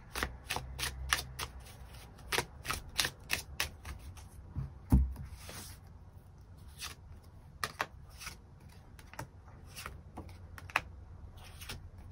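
Tarot cards shuffled to draw extra cards, a long series of crisp riffling snaps and flicks in irregular bursts with a brief thump near the middle, close and quiet, no talking.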